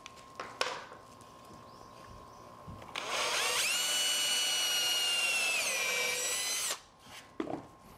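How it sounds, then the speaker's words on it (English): A power drill with a countersink bit drives a screw into cedar: a few light knocks first, then a loud, steady motor whine lasting about four seconds, close by, before stopping with some handling clatter. "I'm going to use a countersink bit"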